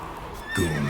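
Roach the horse in The Witcher 3 gives a short, close neigh with a brief shuffle of hooves.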